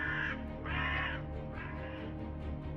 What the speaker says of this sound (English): I heard another bird.